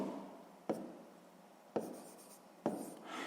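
Three short, scratchy pen strokes on paper while writing out a sixth-grade maths exercise, each a brief close scrape separated by pauses, with no voice.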